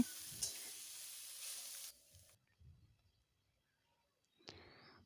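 Winter melon filling fries in a pan until browned: a bright, steady sizzle for about two seconds, then quiet scraping and stirring knocks, and a short burst of sizzling near the end.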